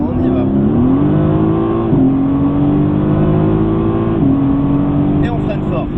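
A Mercedes-AMG GT S accelerating hard out of a corner on a race track, its loud engine note climbing steadily through two upshifts, heard close up from inside the car.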